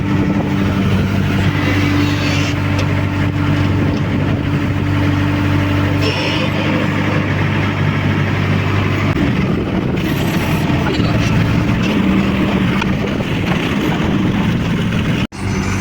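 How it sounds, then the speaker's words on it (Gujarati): A JCB backhoe loader digging a drain, its diesel engine running loud and close with a deep steady rumble that shifts in pitch as it works, continuous until an abrupt cutoff near the end. "ભાવેશભાઈ જેસીબી ચલાવે છે અને નાલી કરે છે"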